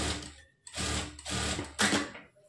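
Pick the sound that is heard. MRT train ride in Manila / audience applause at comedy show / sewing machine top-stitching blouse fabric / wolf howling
sewing machine top-stitching blouse fabric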